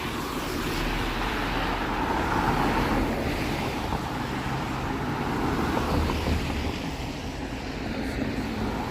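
Traffic rolls through a Toronto street crossing on a cold Saturday: a steady, dense roar of passing vehicles with wind buffeting the microphone, continuous and fairly loud, with no clear individual pass-bys.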